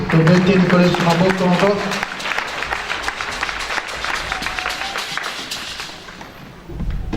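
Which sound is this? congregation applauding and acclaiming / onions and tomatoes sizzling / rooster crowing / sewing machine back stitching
congregation applauding and acclaiming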